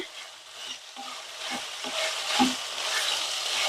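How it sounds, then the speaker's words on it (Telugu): Vegetables and tomato fry in a pan on a stove over high flame, giving a moderate sizzling hiss with soft scattered stirring scrapes, close and steady. "మనం ఈ కూరగాయలన్నీ వేయించుకోవాలి"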